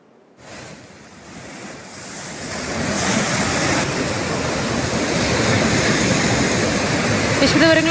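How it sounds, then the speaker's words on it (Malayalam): The Bavali river, flooded after heavy rain and overflowing its banks, rushes by in a loud, continuous roar. Wind buffets the microphone and the sound swells after a quiet start. "ബാവലി പുഴ കരകവിഞ്ഞു."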